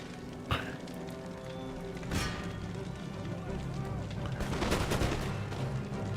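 Elite skirmishers firing a musket volley in Total War: Empire, a period strategy game: scattered crackling shots and a denser ragged burst near the end, fairly faint under steady battle ambience, with someone speaking over it.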